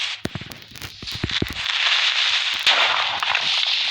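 A burst of sharp cracks and pops gives way to a loud, sustained hissing blast of a Minecraft creeper explosion, close and harsh.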